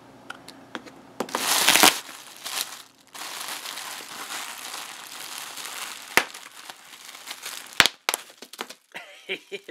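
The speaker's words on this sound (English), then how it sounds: "Bubble wrap." Bubble wrap crinkles and crackles as it is handled, with a loud burst of rustling near the start, then steady crinkling broken by sharp pops and cracks, close and alone.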